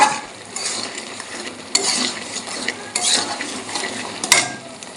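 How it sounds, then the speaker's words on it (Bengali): A utensil scrapes and stirs tomato chutney cooking in a pan, with a soft sizzle beneath and several sharper clinks of metal against the pan. "এই যে এইভাবে নাড়িয়ে নাড়িয়ে কষাবেন টমেটো"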